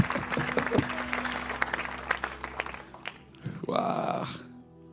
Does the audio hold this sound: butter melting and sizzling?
no